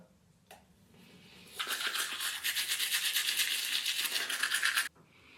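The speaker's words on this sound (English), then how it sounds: "And brush my teeth." Steady scratchy brushing of teeth with a toothbrush, close up and fairly loud, rapid back-and-forth strokes lasting a few seconds after a brief pause.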